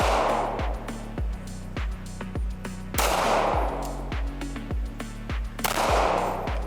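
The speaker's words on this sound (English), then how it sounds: "First couple shots were a bit off." Repeated gunshots from a CZ SP-01 handgun at close range, a steady series of sharp loud reports, roughly one every half second to second, with no talking.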